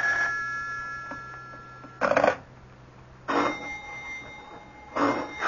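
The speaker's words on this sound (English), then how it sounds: "Do something about that confounded phone." A telephone bell rings in a radio drama, three separate bursts spaced about a second apart over a steady low hum, close and clear with no talk.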